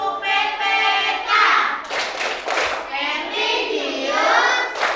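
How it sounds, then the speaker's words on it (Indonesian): A classroom of children performs the Tepuk PPK clapping routine, chanting together with brief bursts of rhythmic group clapping between the sung lines. "Tepuk PPK."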